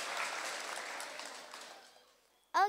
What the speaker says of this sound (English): Everyone, let's give these hardworking teachers a round of applause.